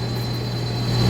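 A thin, steady high whistle rings over the broad rumble and hiss of combine harvesters working a grain field, close and continuous, with no voices.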